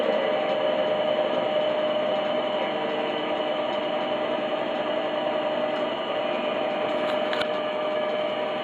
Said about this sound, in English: Compressor's still running.